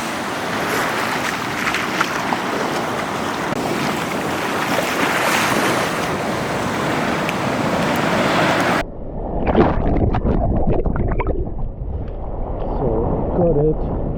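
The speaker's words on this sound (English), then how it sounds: "There's a lot of waves today" Ocean waves surge and wash continuously while wind buffets the microphone. Partway through, the sound turns abruptly muffled and closer, with sloshing water.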